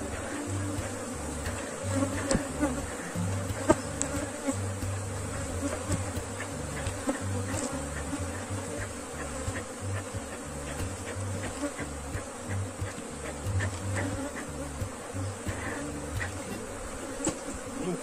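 Honeybees swarming around hive frames during beekeeping work, a dense, constant buzz close to the microphone, with occasional louder passes of individual bees and faint handling noises.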